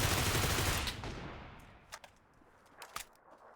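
Gunfire in PUBG on the snowy Vikendi map: a dense sustained burst of shots for about a second, then a few sharp isolated reports fading at a distance.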